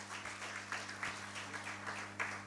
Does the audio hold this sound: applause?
yes